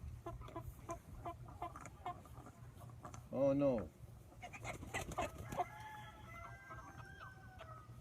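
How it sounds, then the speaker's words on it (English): Broiler chickens at a fair give a burst of gurgling, warbling clucks, with scattered clucking and a rooster-like call nearby, all under people talking. "Why are your chickens gurgling?"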